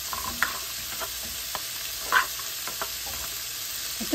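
Food fries in a pan ahead of carrots going in: a soft, even sizzle that runs throughout, broken by a few light stirring clicks.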